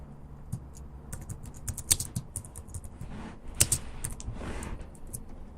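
Keys clatter on a computer keyboard as PHP code is typed, a close, irregular run of crisp clicks with short bursts and pauses, no talk.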